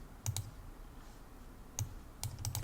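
Login credentials go into a computer keyboard on a Linux machine as a few faint, sparse keystroke clicks, a small cluster early, a lone tap, then a quick final group, close by in a quiet room.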